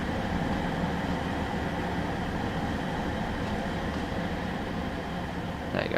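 A Class 150 DMU train running out of Penzance on the West Cornwall line in Train Sim World 2: a steady, loud diesel engine drone and rolling wheel rumble persist throughout without voices.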